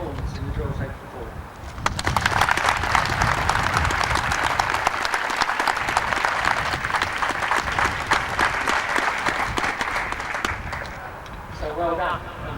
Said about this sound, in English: you'd all like to join me in applauding the crew here today